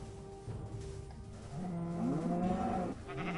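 Cows lowing and sheep bleating in Minecraft, several drawn-out moos rising and falling over a low, steady background, fairly close and clear.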